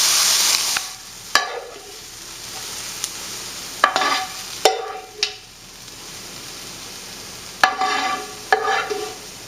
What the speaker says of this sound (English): I'm going to add the onion and pepper mixture to the meat that's in my pressure cooker